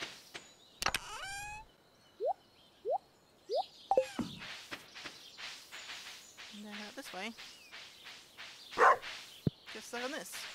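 Game-style dog barks from a dog in the farming video game Stardew Valley: several short, evenly spaced yips near the start, then scattered chirpy effects and footstep-like clicks, with a louder pop near the end.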